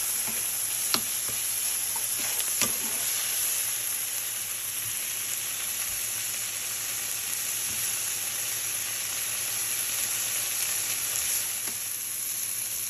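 Onions and peppers frying in a pan for vegan chili, a steady, even sizzle with a high hiss and a few faint clicks of stirring, close by and without talk.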